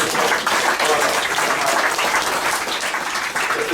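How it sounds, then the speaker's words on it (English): A large outdoor crowd at a DownsSteam inaugural steam train run ceremony applauds loudly and steadily for a new life member, dense clapping filling the whole stretch without pause. "Give him another big round of applause."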